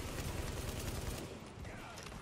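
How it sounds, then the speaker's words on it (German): Blue-rarity shotgun blasts in the video game The Division, a rapid burst of heavy booming shots that fills the first half, then drops to a quieter tail of game ambience. "Eine blaue Schrotflinte probieren wir jetzt mal aus"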